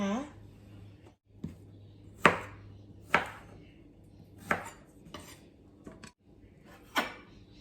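A knife chops pork and broccolini on a board, giving a handful of sharp, separate cuts at uneven intervals over a steady low hum and quiet kitchen background.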